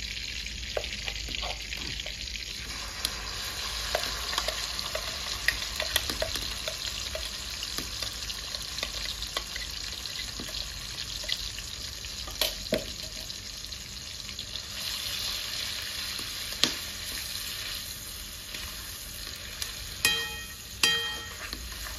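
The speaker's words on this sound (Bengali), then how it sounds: "পেঁয়াজ ভাজা করে পেস্ট করেছিলাম সেটা দিয়ে দেবো।" Fried onion paste sizzles in mustard oil with bay leaves for a Punjabi chicken gravy, a constant close hiss broken by scattered clinks and a few sharper pops near the end, with no voices.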